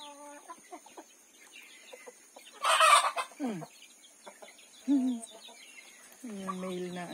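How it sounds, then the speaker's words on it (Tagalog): Chickens cluck and squawk in scattered bursts, nearby and moderately loud, with a sharp flurry of noise partway through and quiet gaps between calls. "Ayan, may mga manok din sila."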